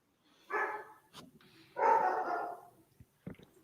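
Dogs bark near a microphone during a livestreamed debate: two loud, separate barks about a second apart, followed by a few faint clicks and small thumps.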